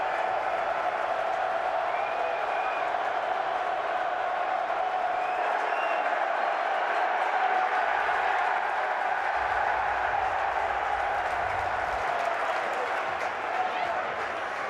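Home crowd at an XFL football game in Seattle creates a steady, loud stadium roar with cheering and chanting throughout, voices talking close by over the din.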